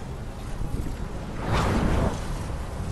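A boat in a video game moves over water, heard as a steady wash of wind and water that swells briefly in the middle.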